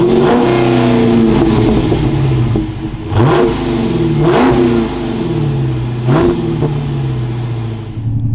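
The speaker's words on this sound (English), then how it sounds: "keep my foot on the clutch, we can go ahead and fire it up." A 2023 Dodge Challenger R/T Scat Pack with a manual gearbox idles loudly up close, then its engine is revved several times in strong, evenly spaced bursts that rise and fall back to a rumbling idle.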